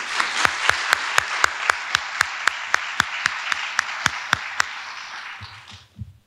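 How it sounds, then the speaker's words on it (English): Applause at a College of Pharmacy commencement ceremony honouring the faculty: a crowd claps in a dense wash, with loud rhythmic unison claps punching through at a steady beat for several seconds, then it fades out near the end. "Please join me in giving the College of Pharmacy faculty a round of applause."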